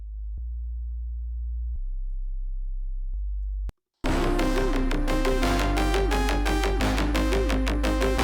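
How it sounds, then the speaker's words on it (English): A synthesized sine-wave sub bass for a Sub Focus style drum and bass drop plays deep sustained low notes alone for about four seconds. After a brief silence, a loud full drum and bass mix crashes in. "let's add a sub bass, oscillator A, sine wave, random down"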